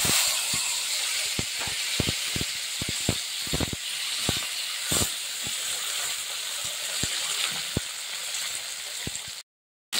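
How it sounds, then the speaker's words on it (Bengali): Tomato sizzles in hot oil with fried black cumin, a steady loud hiss close by, broken by frequent sharp pops and spatters before cutting off near the end. "কালো জিরেটা যখন ভাজা হয়ে গেছে দিয়ে দিচ্ছি টমেটো।"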